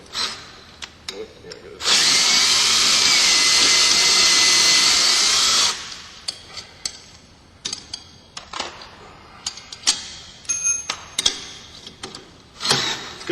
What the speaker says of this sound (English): if you got yourself a decent drill, and you got an end on it for a socket, these bolts come off real easy